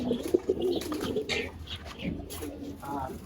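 Pigeons coo in a home loft, soft low murmuring calls repeating at moderate distance, with a faint voice and some light shuffling noises mixed in.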